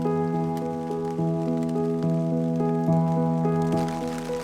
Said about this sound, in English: It's starting to rain a lot more.